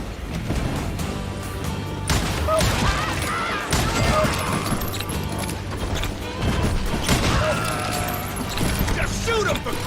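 Gunfire in the Western shooter Call of Juarez: Gunslinger rattles in dense, continuous volleys of shots and mechanical clatter, with shouting voices over it throughout.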